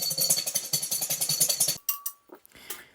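A hand whisk beats egg whites or aquafaba in a bowl for candy cane icing, a rapid, loud rhythmic clatter for nearly two seconds, then a brief pause and a few scattered taps and scrapes.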